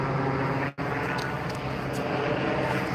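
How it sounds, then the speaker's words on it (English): A helicopter passes overhead outdoors, a steady loud rumbling whir filling the clip, with one brief cut near the start. "There's a helicopter"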